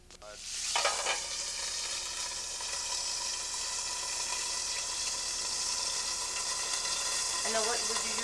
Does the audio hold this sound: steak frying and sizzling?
yes